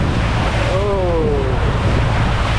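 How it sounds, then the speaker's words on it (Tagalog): Large ocean waves splash and spray in strong wind off Surigao, with constant loud wind and surf noise filling the scene and a brief voice-like call rising over it partway through. "Magkaabot pa din tayo ng alon, ng tilamsik ng alon."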